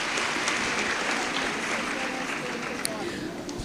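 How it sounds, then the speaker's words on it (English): Conference audience applauding at a national nursing conference, a steady dense wash of clapping from a large crowd filling the space evenly for several seconds. "let's give a round of applause and welcome ourselves to this beautiful program"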